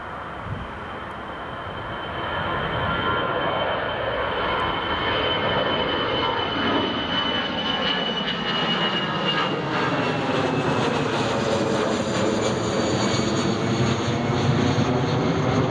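An easyJet airliner takes off at Newcastle Airport, its engine roar swelling after a quieter start and holding loud and steady, with a Doppler-like shifting tone as it climbs past.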